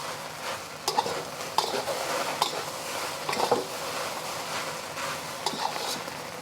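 Egg fried rice with ginger and scallion is stirred in a hot pan, the spatula scraping and clinking against the metal in repeated strokes over a steady, close sizzle.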